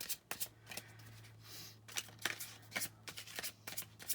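Tarot cards are shuffled by hand in quick, irregular riffles and slaps, close and fairly soft against a low steady hum.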